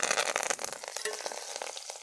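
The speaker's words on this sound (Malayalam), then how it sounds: "കറിവേപ്പിൻ്റെ ഇല ഇട്ട് കൊടുക്കുക കേട്ടോ" Curry leaves are dropped into hot oil for a Kerala-style roasted-chili tamarind curry. A close, bright crackling sizzle with quick pops runs steadily throughout, with no voices.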